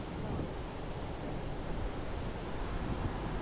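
Ocean surf at Hilo Beach Park on Hawaii's Big Island, a steady broadband wash of waves mixed with wind buffeting the microphone, with no voices.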